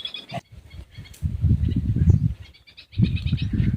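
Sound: birds chirping outdoors

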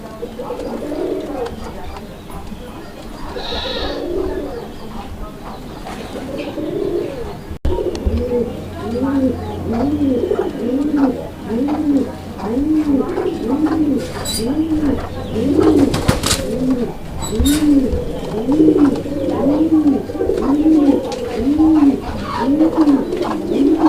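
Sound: pigeons cooing, Bombay pigeon pair

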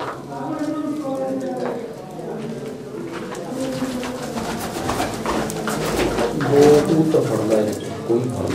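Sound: pigeons cooing in coop

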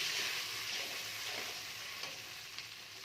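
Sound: fish curry gravy boiling

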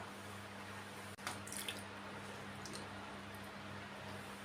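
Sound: water washing face pack off the face

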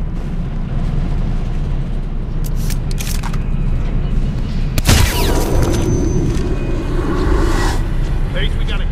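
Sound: gunshot from the video game Hitman Absolution

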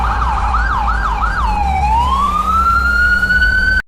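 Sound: emergency vehicle sirens in a cartoon

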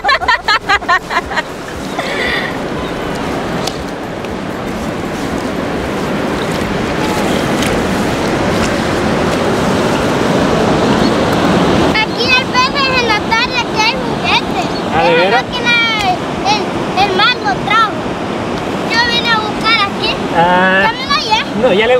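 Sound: ocean waves on a beach

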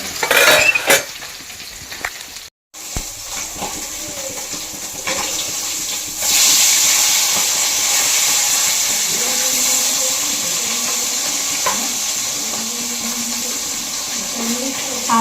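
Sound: fish frying in a pan

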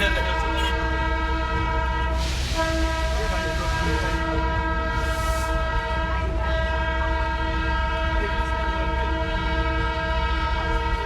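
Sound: Darjeeling toy train running and sounding its horn

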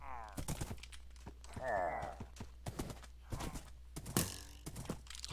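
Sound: horse hooves in Minecraft video game

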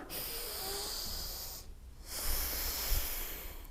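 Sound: breathing in and out during a spinal exercise

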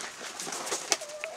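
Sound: tumbler pigeons cooing

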